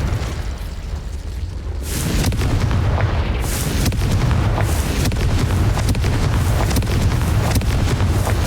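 In the video game Hogwarts Legacy, a Confringo blasting spell sets off a loud, booming explosion with a heavy rumbling roar and crackling bursts that go on for several seconds.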